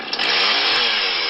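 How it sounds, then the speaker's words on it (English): A chainsaw roars steadily at close range in one short, loud, continuous burst of buzzing engine noise, with no talking over it. "And here's your chainsaw, Sean."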